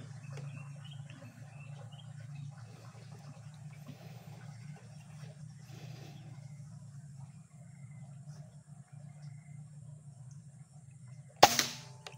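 A PCP airgun fires once near the end, a single sharp loud crack after a long stretch of faint low hum and quiet background.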